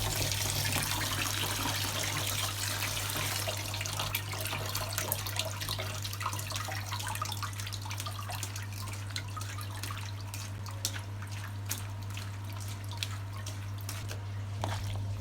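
Squid being washed in a colander under running water, a constant tap stream with splashing and dripping heard close, over a steady low mechanical hum.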